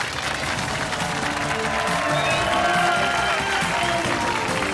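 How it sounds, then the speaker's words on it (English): A studio audience at a BBC quiz show applauds steadily, a dense wash of clapping with some cheering that carries on throughout. "Big round of applause for you there."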